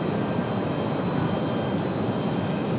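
A steady, loud, broadband roar of an Icelandair jet airliner departing Raleigh-Durham International Airport at night, sustained and unbroken with no talk over it.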